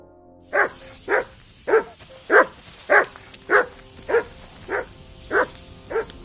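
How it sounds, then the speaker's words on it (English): A dog in the video game Kingdom Come: Deliverance 2 barking ten times in a steady, evenly spaced run of single loud barks, close and alone. "Good dog, Mats."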